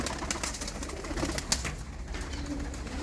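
Domestic desi pigeons cooing softly in a loft, low repeated coos with light rustling and occasional wing or body movement nearby, no talk.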